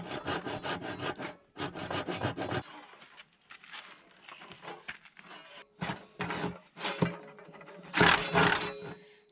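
A wooden board being hand sawn, with rhythmic rasping strokes in bursts of varying loudness and short pauses between runs, heard close up and without talk.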